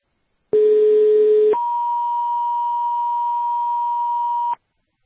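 Two-tone fire dispatch alert from a New Hampshire mutual aid radio channel: a lower steady tone for about a second, then a higher tone held for roughly three seconds, loud and clean against silence.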